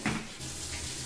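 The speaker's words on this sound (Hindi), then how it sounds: "पानी में डाल के भिगा दूँगी ताकि इसका जो ठंडा है, ठंडापन, फ्रिज का जो ठंडापन है वो चला जाए।" Tap water runs into a kitchen sink to soak cucumber, radish, carrot and fruit, a brief close hiss that swells at the start and then settles into a steady splashing flow.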